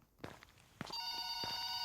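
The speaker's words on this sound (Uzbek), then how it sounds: "Telefon bo'lyapti." A telephone rings in a horror video game, a steady electronic bell tone that starts after a couple of soft footstep-like thuds and continues unbroken, quiet and with no talk.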